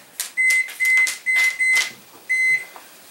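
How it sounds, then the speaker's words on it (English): A kitchen timer emits five short, loud electronic beeps in an uneven rhythm as it is set, with soft button presses or handling noises between them, close and alone without talk. "Set the timer for another 5 minutes."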